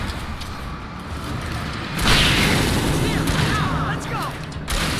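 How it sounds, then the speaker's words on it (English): Flashbang grenade going off in Alan Wake, a sudden loud bang that breaks over a steady low rumble of ambience and then rings out into a sustained noisy wash. "Flashbang out."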